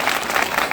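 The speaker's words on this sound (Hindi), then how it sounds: "बहुत ताली बजाओ" Audience applause at a devotional spiritual gathering, a brief burst of dense, steady clapping from many hands, close and fairly loud with no talk over it.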